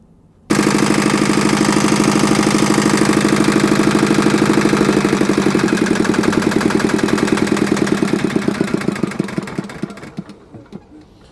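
A repaired diesel walk-behind tractor engine starts abruptly and runs loud and close with a steady chugging knock for several seconds, then its beat slows and fades as it winds down.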